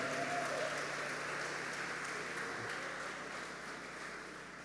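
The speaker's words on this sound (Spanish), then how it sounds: "Un aplauso a Jesucristo." A room of retreat attendees at an Advent retreat applauding for Jesus Christ, a soft, steady patter of clapping heard from a distance and slowly tapering off.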